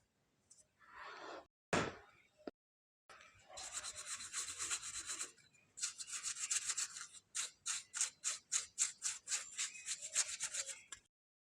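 A brush scrubs dust from a laptop fan and its socket, giving close, dry rubbing strokes in bursts, first sustained and then a quick rhythmic series of short brushes, with a few clicks and knocks early on.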